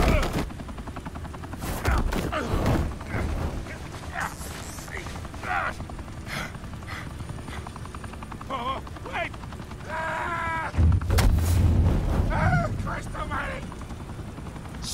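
A helicopter from Batman: The Telltale Series drones steadily in the background, joined by bursts of gunfire and a rapid volley of shots, with voices talking over it.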